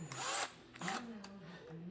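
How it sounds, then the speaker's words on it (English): A step drill bit cutting into metal during a Triumph chopper motorcycle fabrication, driven in two or three short whining bursts with brief pauses between, close and fairly quiet. "And then switch out to the step drill."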